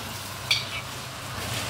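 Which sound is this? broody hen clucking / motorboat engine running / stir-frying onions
stir-frying onions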